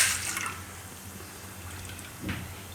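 Water is poured into a saucepan to cook Maggi noodles, a short splashing gush at the start followed by a quieter trickle and a brief slosh near the end, close and fairly soft.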